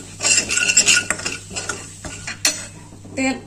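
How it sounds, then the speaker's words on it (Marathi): Turmeric and Malvani masala being stirred into hot oil in a pan with a spoon, giving close, irregular scraping and clinking strokes over a faint sizzle, with brief pauses between bursts. "हे तेलामध्ये मी मसाले व्यवस्थित मिक्स करून घेते"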